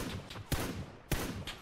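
Gunfire in a PUBG match comes as quick bursts with two sharp, distinct shot transients over low background noise, fairly faint and with no talking.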